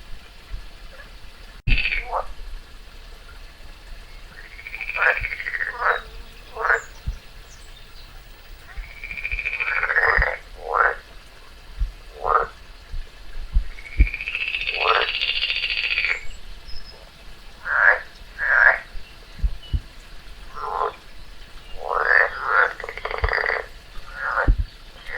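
A frog croaking in the wild while a garter snake swallows it: repeated short, raspy croaks and squeals come in irregular bursts over about 25 seconds against a quiet outdoor background.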